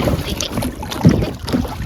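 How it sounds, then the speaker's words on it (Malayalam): Wind gusting across Vembanad Lake in Kerala during a kayaking trip makes a steady broadband rush with fluttering buffets on the microphone and faint water movement, close and continuous for about two seconds. "ഇതാ കാറ്റുള്ളതുകൊണ്ട് നല്ലപോലെ ഒഴുക്കുണ്ട്."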